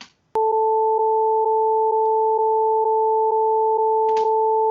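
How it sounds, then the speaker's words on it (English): Two steady sine tones sound together, a pure pitch and its octave, loud and constant, beginning after a sharp click and pulsing faintly at regular intervals, with light clicks near the end. "So these are 2 simple tones, 440 and 880. This is their sound."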